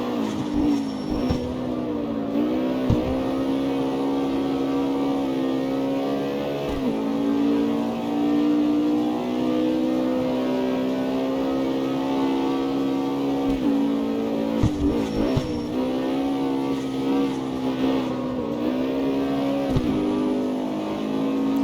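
A Ford Mustang races in CarX Street, its engine revving hard and loud with rising tones broken by quick gear shifts every few seconds, continuous and alone.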